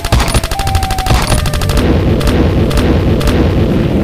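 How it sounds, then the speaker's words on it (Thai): A cannon firing cannonballs in an animated game: a rapid run of loud, sharp repeated blasts at the start, then a few separate heavy booms spaced apart, all close and forceful. "สุดยอดไปเลยยิงทีเดียวหัวสัปปะหลาดมันกระเด็นหายไปเลยลูกกระสุนปืนใหญ่ของโกโกวา"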